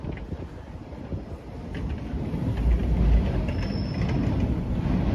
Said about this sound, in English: Oh, but I hear a line 2 train.